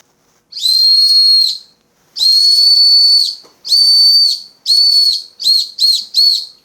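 A shrill safety whistle, built into a small lamp, is blown loudly seven times, first in longer blasts, then in quicker short toots.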